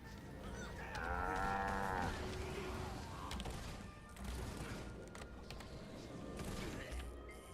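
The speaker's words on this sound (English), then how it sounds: "Stupid cow must be too scared." A cow in the Guild Wars 2 video game lets out a loud, drawn-out moo near the start, set over a busy layer of game ambience and clatter that carries on afterward.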